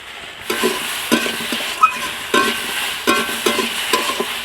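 A pan of Bengali fish curry with vegetables, oil and chili powder fries with a steady sizzle, broken by repeated scraping strokes of a spatula stirring it.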